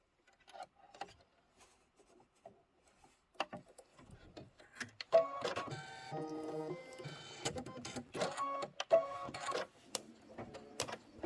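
An embroidery machine stitches the fill on a bird's beak in an orange thread for a cozy bench buddy pillow, giving a quiet, rapid mechanical chatter that starts and stops in short bursts before settling into steadier stitching.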